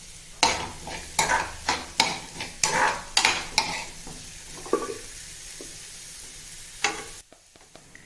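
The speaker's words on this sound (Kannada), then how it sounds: "ಒಂದು ಪ್ಯಾನಿಗೆ ಬಟರ್ ಹಾಕ್ಬಿಟ್ಟು ಆ್ಯಂಡ್ ಈರುಳ್ಳಿ, ಮೆಣಸಿನ್ಕಾಯಿ, ಬೆಳ್ಳುಳ್ಳಿ ಏನಿತ್ತು ಅಷ್ಟನ್ನು ಹಾಕ್ಬಿಟ್ಟು ಸ್ವಲ್ಪ ಫ್ರೈ ಮಾಡಿಕೊಂಡೆ" Onion, chilli and garlic fry in butter in a pan, a steady sizzle broken by a run of rhythmic stirring scrapes early on, then quieter frying with a few scattered taps near the end.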